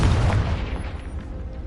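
A Confringo fire spell from the Hogwarts Legacy video game erupts in a heavy, booming blast up close, then rumbles and decays across the rest of the moment.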